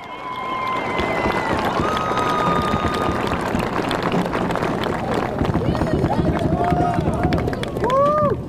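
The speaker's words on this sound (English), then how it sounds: "Let's give them a big round of applause, please." A large crowd at the 2019 Santa Fe High graduation applauding the school staff and administration, a dense sustained roar of clapping with whistles and scattered cheers throughout.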